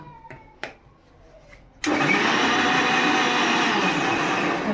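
A few faint clicks and knocks, then a mixer grinder blending fruit with water into juice starts abruptly and runs loud and steady with a high whirring roar.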